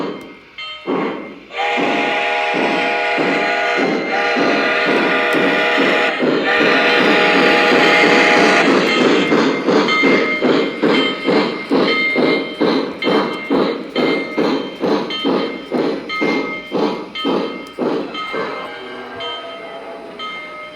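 A Lionel Legacy model steam locomotive, the Nickel Plate Road No. 587 light Mikado, runs on a layout. It opens with loud whistle blasts, then a close, strong, rhythmic chuff carries on and gradually thins and slows.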